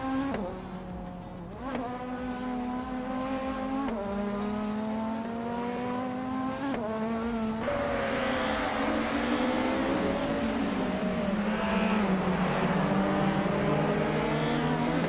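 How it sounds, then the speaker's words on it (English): A 1996 Peugeot 406 race car laps a track, its engine holding a steady high drone with rising pitch sweeps through the gears and a dense, continuous roar. "Drelitsko is driving a Peugeot 406 from 1996 type"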